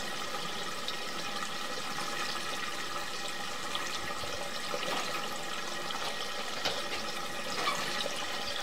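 Water rushing steadily through a septic line pipe, a continuous hissing, gurgling flow heard close up with no pauses and no talk.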